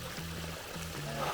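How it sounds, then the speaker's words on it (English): Garden pond stream trickling over a small eight-inch stone drop, a steady soft splash and babble of water with a low humming tone underneath, close and moderately quiet. "Nice little 8-inch drop right there. We got her nice stream right here"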